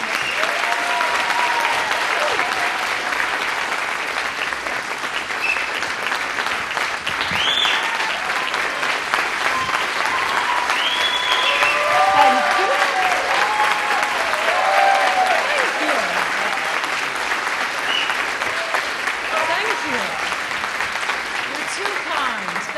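A large audience at a book talk greets Ann Coulter with loud, sustained applause lasting over twenty seconds, with scattered whistles and cheers rising above the dense clapping.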